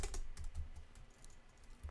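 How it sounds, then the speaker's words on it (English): Fingers sliding along the number keys of a computer keyboard, a steady close clatter of soft plastic key clicks rattling continuously with no talk. "I'm literally just sliding along my keyboard. Like 1 to 9."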